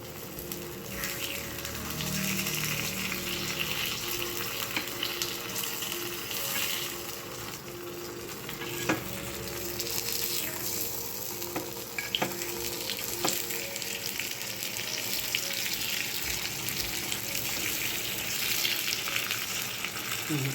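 Sweet potato paniyaram frying in a covered pan on low heat, a steady crackling sizzle close by with occasional sharp clicks and scrapes as the pieces are turned.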